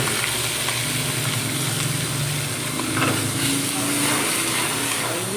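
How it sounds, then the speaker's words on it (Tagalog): A mushroom sizzling dish hisses and crackles steadily on a hot plate, a close, continuous frying sizzle with no pauses. "Ayan na po mga kabisdak ang aming sizzling with mushroom."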